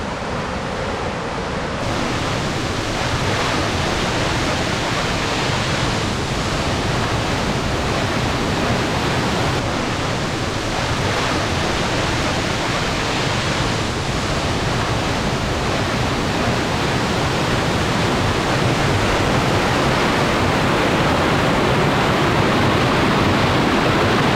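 Steady, roaring rush of falling water, a dense continuous wash of sound that stays loud and unchanging throughout with no voices.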